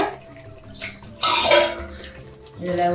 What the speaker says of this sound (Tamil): இதில் ஒரு டம்ளர் தண்ணி ஊற்றுவோங்க.